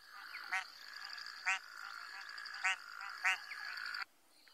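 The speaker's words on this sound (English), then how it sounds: "I think one of the puddle frogs is what we have here." A puddle frog, believed to be a sharp-nosed grass frog, calls at a sunrise safari site: four short rasping croaks spaced about a second apart, fairly close, over a steady high insect-like drone that cuts off at the end.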